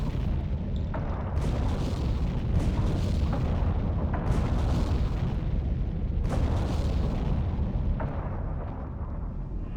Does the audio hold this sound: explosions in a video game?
yes